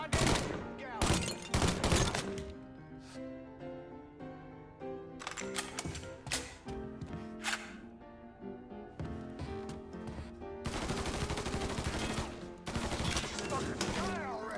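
Rapid bursts of gunfire from the Mafia 3 video game ring out loud and close, with dense clusters of shots separated by shorter pauses and a heavy final volley, mixed with game music and effects.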